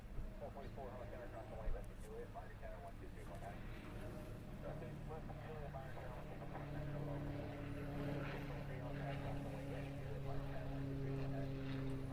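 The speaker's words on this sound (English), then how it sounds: "I keep meaning to look at that plane when we're at the other end as it goes over us" Airliner passing overhead near Honolulu airport, a steady low engine drone that swells gradually and stays fairly distant, with a voice talking over it.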